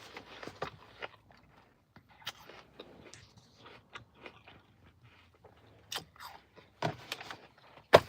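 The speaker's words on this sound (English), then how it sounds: "I like when my apple is crispy, hard and crunchy." A crisp, hard apple being bitten and chewed up close, sharp crunches and wet mastication coming in irregular bursts with quiet pauses between them.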